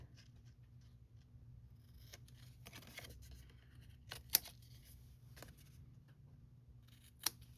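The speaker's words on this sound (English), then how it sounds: "we're just going to take our snips, and we're just going to cut off the end" Scissors-style snips cut the end off a paper card panel in a quiet room, with a few soft crisp snips and two sharp clicks heard close and faint.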